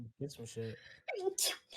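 A single sharp sneeze bursts out right after a brief spoken phrase, close and loud, during a casual podcast conversation.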